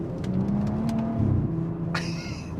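A modded BMW 340i M-Sport accelerating out of a roundabout, with a steady engine drone heard from inside the car that builds slightly toward the end.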